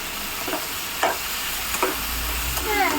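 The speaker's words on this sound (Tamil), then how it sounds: "முட்டை உடிச்சு போட்டுக்கிறேன்" An egg broken into frying tomato thokku and stirred, with a steady close sizzle under several soft scraping strokes of a spoon against the pan. No talk.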